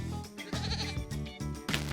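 Goat bleating in a quick series of wavering, nasal cries, close and fairly loud, with short pauses between calls and no talking.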